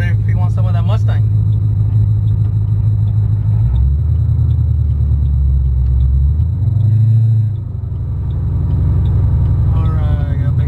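An 800 hp Ford Mustang GT rumbles at low, steady idle from inside the car, a deep loud drone with slight swells and dips, and people talk briefly over it.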